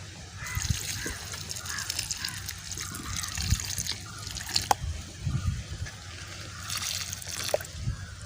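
Water trickles and splashes unevenly in soft bursts nearby onto a potted curry leaf plant, with a few light drips and patters between pours.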